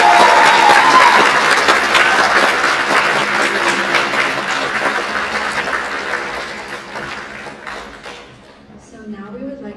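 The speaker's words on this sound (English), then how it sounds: "Another big round of applause for our" An audience at a live Bharatanatyam arangetram applauds loudly, the clapping dense at first and gradually fading over several seconds as a voice speaks over the tail.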